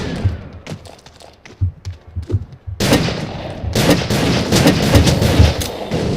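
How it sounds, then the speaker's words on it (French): Small pistol in the video game Age of Spades fires in a rapid flurry of sharp, loud cracks. A few scattered shots come first, then a dense burst of continuous shooting. "Le petit pistolet sinon il fait mal, moi je l'aime bien. Il tire vite."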